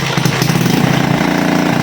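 A motorcycle engine catches and runs with a loud, close, rapid chugging idle that pulses evenly throughout.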